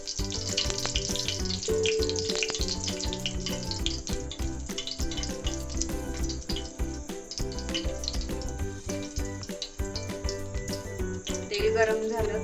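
Oil heating in a hot pressure cooker for a tempering gives a steady, close frying sizzle that runs throughout beneath a layer of background music.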